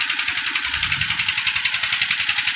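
A tractor engine runs on a farm, close and fairly loud, with a steady rhythmic chugging pulse that holds evenly across the whole stretch.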